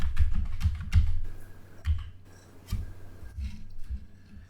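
Someone types in quick, uneven bursts on a computer keyboard, with sharp clacking keystrokes close to the microphone and short pauses between the flurries.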